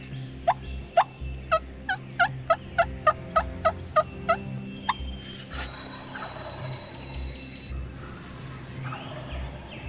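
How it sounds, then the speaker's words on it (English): A wild turkey gobbles in a backyard in a rapid rattling burst of about a dozen pulses, fairly close. Quieter outdoor ambience and a faint high tone follow. "There are turkeys everywhere"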